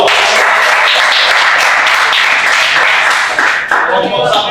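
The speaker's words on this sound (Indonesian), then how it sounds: "tepuk tangan untuk kelompok 2" Loud, close applause from a classroom of students for a group, with dense steady clapping that carries on without a break and dips slightly near the end.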